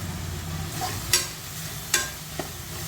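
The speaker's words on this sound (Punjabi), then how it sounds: "ਮਸਾਲਿਆਂ ਨੂੰ ਥੋੜਾ ਜਿਹਾ ਭੁੰਨ ਲਾਂਗੇ" Spices with black pepper and salt roast in a pan for a vegetable dish. A soft, steady stir and low sizzle run throughout, broken by a few sharp scrapes of a spatula on metal.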